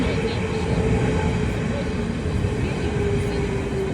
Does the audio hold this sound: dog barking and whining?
no